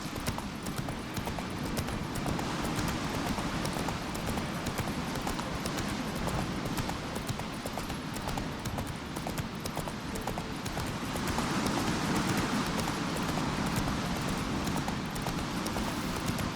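Horse hooves clip-clop steadily at a gallop in The Witcher 3 video game, a continuous close rhythmic drumming under a low rumble with no talk.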